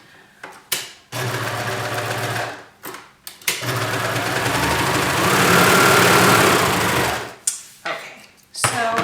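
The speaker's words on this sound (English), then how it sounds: "we're going to sew up this short end here so that we create a continuous circle" A sewing machine stitches the short end of a knit shirt neckband in loud, steady motor runs, breaking off briefly between bursts, with brief talk around it.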